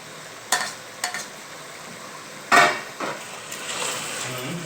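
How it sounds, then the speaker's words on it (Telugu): Chicken and tomatoes stirred in a pan on the stove, with a soft steady frying sizzle and a few sharp clinks and scrapes of a spoon against the pan, one louder knock near the middle. "టమాటో వేస్తున్నాను టమాటో చికెన్"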